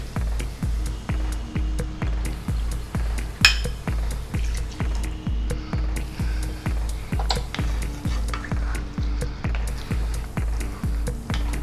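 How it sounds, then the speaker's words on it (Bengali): Rice cooking in a pot with potato, carrot, chicken and water for chicken pish pash is stirred in a steady, rhythmic run of close, even strokes, with no voices. "ভালো করে মিশিয়ে দিচ্ছি।"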